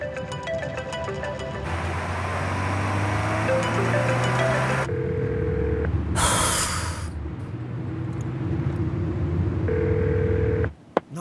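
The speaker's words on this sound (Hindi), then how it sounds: "उठाओ, फोन उठाओ अपना।" A telephone rings repeatedly with electronic tones in a dramatic indoor scene, loud and close, the ring pattern broken by short pauses and shifts, with no one speaking over it.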